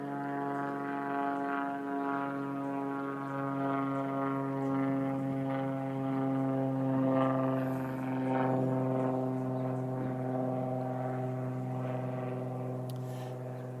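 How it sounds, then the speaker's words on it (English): A plane passes overhead outdoors in Africa, a steady droning engine hum with strong sustained tones that swells gently toward the middle and eases off, continuous for the whole stretch. "See if we can let this plane go over."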